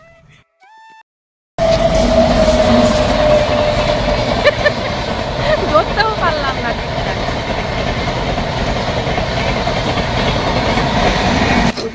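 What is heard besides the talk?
train passing by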